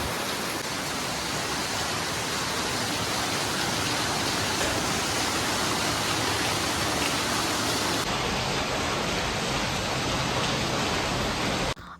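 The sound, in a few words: rain falling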